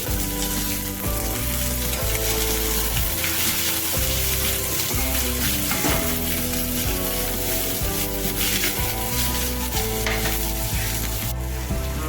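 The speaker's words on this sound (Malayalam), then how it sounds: "ഇതൊന്ന് ചൂടായി വരുമ്പോഴേക്കും ഉള്ളിയും സവാളയും ചെറുതായിട്ട് അരിഞ്ഞത് കൂടി ചേർത്തൊന്ന് വഴറ്റാം" Chopped shallots and onions sauté with chilli, ginger and garlic in hot oil for a Kerala prawn theeyal, giving a steady close sizzle with a few stirring scrapes throughout, no talking.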